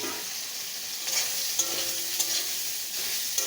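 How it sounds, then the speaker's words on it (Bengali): Soybean chunks fry in a kadai for a masala soybean curry, sizzling steadily with clinks and scrapes of a spatula against the metal at irregular intervals. "সয়াবিনটা একটু ভেজে নেব।"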